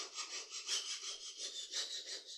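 A hand file cuts a bevel into tough Damascus steel with steady rhythmic rasping strokes, each push a distinct scrape in a regular back-and-forth pattern. The strokes are close and fairly soft, with no talking.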